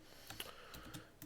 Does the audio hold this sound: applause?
no